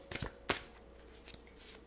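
Tarot cards are shuffled by hand in a few quick riffles and slaps, close and crisp against a quiet indoor background.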